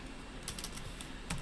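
Fingers tap quickly on a computer keyboard, a short run of light, close key clicks.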